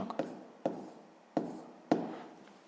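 Pen writing on paper while working a sixth-grade maths exercise, four distinct scratchy strokes spaced at irregular intervals, close and quiet, without talking.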